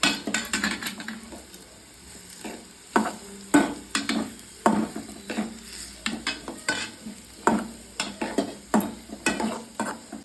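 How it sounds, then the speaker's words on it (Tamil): Onions fry in hot oil for a Tamil nitthili karuvaadu (dried fish) recipe, a constant sizzle broken by repeated scraping stirs of a utensil against the pan at an uneven rhythm. "இப்போ நம்ம இந்த வெங்காயத்தை கொட்டி நல்லா ஃப்ரை பண்ண"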